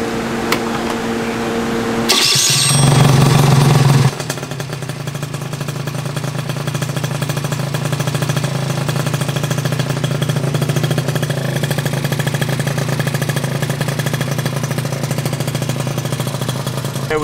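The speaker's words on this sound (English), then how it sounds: "aka this bike should fire right up" A 72cc Honda Elite Dio scooter with a Polini Corsa kit and Arrow pipe sputters briefly, catches with a loud burst of revving, then settles into a steady, buzzing idle that runs on close by.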